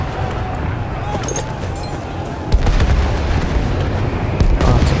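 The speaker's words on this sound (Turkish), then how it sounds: "Artık böyle top atışlarıyla vurkaç yapa yapa." Battle sounds from Battlefield 1 on the Hejaz-Yemen front during an attack on an armoured train, a sudden heavy boom partway through over a constant rumbling din, with someone talking throughout.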